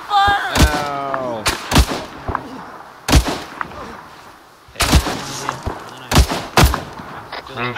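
Incoming gunfire in Arma 3: sharp, loud shots and short bursts arriving irregularly, some close and booming, with quieter gaps of ambient noise between them.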